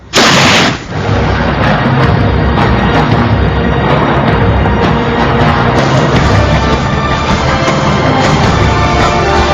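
Loud gunfire erupts in a sharp burst, then continues as a dense, sustained barrage of shots and blasts with no voices.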